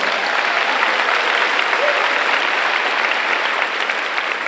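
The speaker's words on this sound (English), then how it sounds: "Give yourself a round of applause." Sustained applause from a large school district convocation audience of teachers and staff, dense and steady throughout at even loudness, with a faint murmur of voices mixed in.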